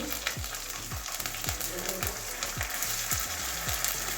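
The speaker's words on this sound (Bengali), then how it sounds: "পেঁয়াজ ভাজা হয়ে গেছে এবারে আদা রসুনের পেস্ট দিয়ে দিচ্ছি" Onions and ginger-garlic paste fry in a pan for aloo kofta, a steady close sizzle broken by regular stirring scrapes about every half second, with no voices.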